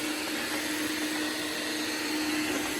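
An iRobot Roomba robot vacuum runs with a steady, even whir and a strong constant hum, loud and close, with no voices over it.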